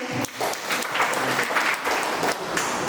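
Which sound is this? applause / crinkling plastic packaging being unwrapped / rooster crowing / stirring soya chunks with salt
applause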